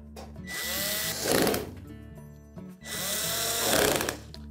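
Cordless power tool driving screws into an electric range's electronic control board, two separate whirring bursts, each ramping up as the screw tightens, close and fairly loud with no talking.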